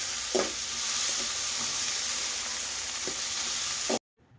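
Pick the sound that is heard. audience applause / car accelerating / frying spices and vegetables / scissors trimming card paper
frying spices and vegetables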